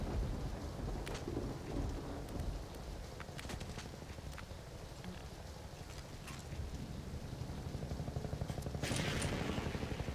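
Thunder and rain from a lightning effect in a Half-Life 2 mod, a low rolling thunder rumble over steady hissing rainfall, with a brighter crack of rain noise near the end, no talk.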